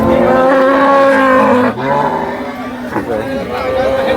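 A large cow lets out a deep, drawn-out moo close by, with people talking and market chatter around it at the Sangola cattle market.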